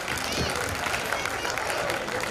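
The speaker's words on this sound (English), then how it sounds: "So big round of applause to everybody who participated today here." An audience applauds the quiz participants at a school quiz finals, a dense steady wash of clapping mixed with crowd noise and babble that holds at an even level throughout.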